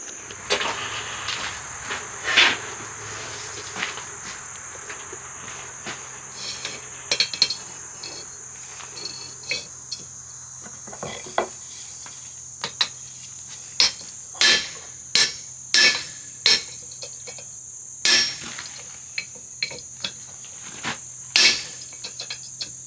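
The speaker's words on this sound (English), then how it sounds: "I'm going to take that to the anvil and see if I can get it straight" Sharp metallic hammer strikes on an anvil, straightening a twisted fire poker, ring out at an irregular pace, growing sparser and louder toward the end, over a steady high insect chirr.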